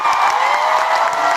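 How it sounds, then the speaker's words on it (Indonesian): A fan meeting audience for Kim Jiwon breaks into dense applause mixed with cheering, a loud, sustained wash of clapping and shouts that carries through the whole brief moment. "Boleh tepuk tangan yang banyak."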